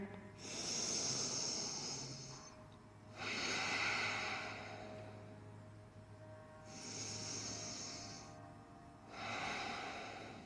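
Deep, slow breaths in yoga child's pose come close to the ear as long airy inhales and exhales, four breath cycles at an unhurried, even rhythm over a faint background hum.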